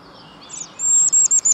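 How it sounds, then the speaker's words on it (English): Bird singing outside an office window: a thin, high whistled note that rises, then a series of short, bright chirps repeated in quick rhythm, clear and fairly close, with no voices. "I usually have a nice bird singing outside my office window."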